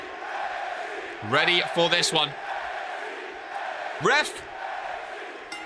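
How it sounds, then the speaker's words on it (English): Arena crowd noise in the WWE 2K26 wrestling video game, with the crowd on its feet during a match: a steady, broad roar held low beneath louder commentary voices throughout. "Origin crowd on their feet."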